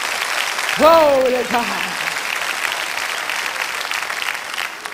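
A church congregation claps hands during an evangelist's sermon, steady applause filling the room while a voice calls out briefly over it near the start.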